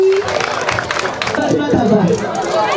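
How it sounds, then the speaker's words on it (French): A class of schoolchildren in Sikasso, Mali, applauding together, fast close clapping mixed with chatter and children's voices for a few seconds. "On applaudit, allez, on applaudit."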